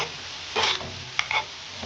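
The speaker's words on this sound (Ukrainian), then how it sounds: "смажу овочі." Brief bursts of sizzling from vegetables frying in a pan, with a couple of short crackles and stirring noises over a quiet background.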